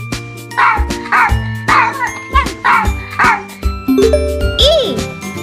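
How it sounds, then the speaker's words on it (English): A dog barks repeatedly in an even rhythm over bright, jingly children's music, each bark short and close. "D is for dog."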